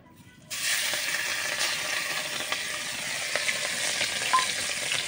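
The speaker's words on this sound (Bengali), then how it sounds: "এবারে চিংড়িটা আমি কড়াই তুলে দিচ্ছি।" Shrimp hit hot oil in a kadai, bursting into a loud sudden sizzle after a quiet half second, then a dense steady crackle with faint stirring clicks.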